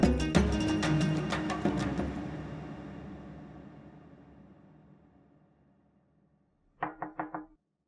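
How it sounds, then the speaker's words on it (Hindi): A short burst of about four sharp knocks on a door comes after a decaying musical sting. The raps are quick and evenly spaced, moderately loud and close, with no voices. "अब नॉक करके आया करोगी तुम।"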